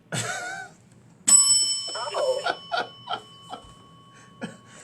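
A bell is struck once and rings on with a clear, sustained tone, followed by a few short knocks and clatters; a brief voice is heard just before the strike.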